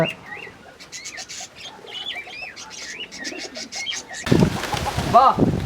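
Pigeons and other birds call at a pet animal market in Erode. Cooing and chirping form a busy layer, some wing flapping is heard, and a louder close burst comes near the end.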